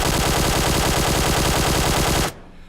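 An in-game QBZ assault rifle in PUBG Mobile is hip-fired in one continuous rapid burst, loud and close, for about two seconds before stopping abruptly, with no voices.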